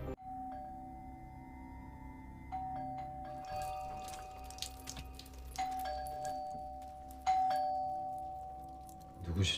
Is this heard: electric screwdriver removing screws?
no